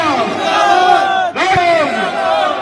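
A large crowd at a farmers' union meeting roars and chants slogans together, loud and sustained, with massed voices rising in a collective battle-cry-like shout.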